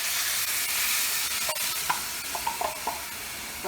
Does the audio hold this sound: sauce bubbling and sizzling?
yes